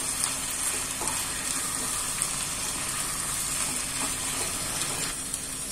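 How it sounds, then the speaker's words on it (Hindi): Spices including mango powder, coriander powder and Kashmiri red chilli are stirred into frying potato and ivy gourd sabzi, giving a dense, continuous sizzle close by, with faint scraping from the stirring. "इनको हम सब्जी के साथ अच्छे से मिक्स कर लेंगे."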